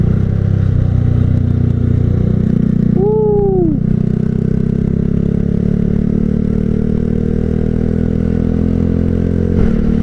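A Yamaha Jupiter Z1 motorcycle fitted with a smaller rear sprocket, its engine droning steadily and loudly up close with a brief rising-then-falling whine partway through, mixed with road rumble and rattle.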